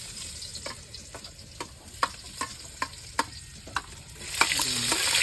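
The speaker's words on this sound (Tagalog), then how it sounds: "mainit na yung ating mantika at ilalagay na natin itong ating bawang at saka sibuyas" Garlic and onion frying in hot oil, a steady sizzle with a run of sharp clicks and pops, the hiss swelling louder near the end as the pan gets very hot.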